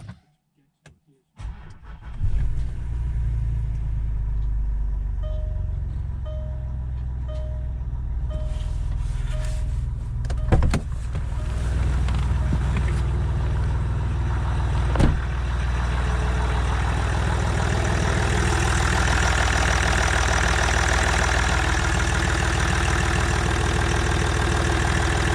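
A car engine on a cold night cranks and catches after a few moments of silence, then settles into a loud, steady idle with a continuous low rumble close by, with a brief knock partway through.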